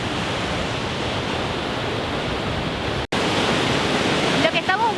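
The Iguazu Falls waterfall, its strong current swollen and reddish after days of rain, makes a loud, steady, close roar of rushing water. The roar drops out for a split second midway, and a faint voice rises near the end.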